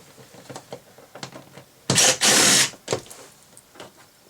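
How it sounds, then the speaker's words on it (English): A power tool whirs in two short bursts around the middle, removing a 7mm bolt from the door panel of a 2021 Chevy Malibu, with faint handling noises before and after. "there's another 7mm bolt that we need to take off"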